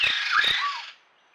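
A laughing thrush calls loudly and harshly close by, a rasping squawk with a rising note, then cuts off abruptly into quiet.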